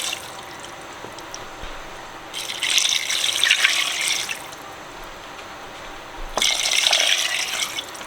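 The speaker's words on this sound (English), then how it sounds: "Putting 8 cups of water." Water poured into a pot for duck soup stock arrives in two separate gushing bursts, each lasting about two seconds with a short quiet gap between, splashing brightly and close by.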